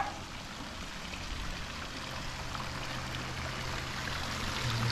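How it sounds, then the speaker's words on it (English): Water from a waterfall spills out of a backyard hot tub, a steady soft splashing and trickling rush that holds at an even level throughout, moderately close with no voices. "And a waterfall cascading from the hot tub here."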